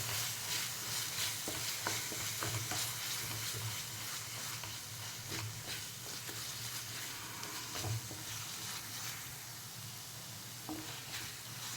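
Ginger and garlic paste is stirred into a sizzling pan, a steady frying hiss under repeated close scrapes and taps of a spoon against the pan, with no speech.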